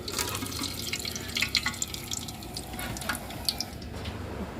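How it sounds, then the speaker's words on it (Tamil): Cardamom, cinnamon and cloves sizzle and crackle in hot oil for chicken biryani, a steady close frying hiss with scattered small pops throughout. "ஏலக்காய் நல்லா பொரிஞ்சிச்சு."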